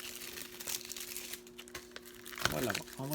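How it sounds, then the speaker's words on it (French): Plastic film being peeled and crinkled off a Blu-ray case during an unboxing, with close crackling rustles throughout and a voice speaking near the end. "Je vais le déballer."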